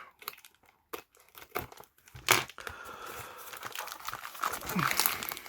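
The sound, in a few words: cutting open fountain pen packaging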